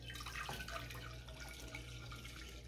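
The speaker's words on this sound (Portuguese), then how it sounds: "Vou começar colocando aqui leite." Warm freshly boiled milk is poured into sweet bread dough, a soft quiet trickling and splashing of liquid heard close against a low steady background hum.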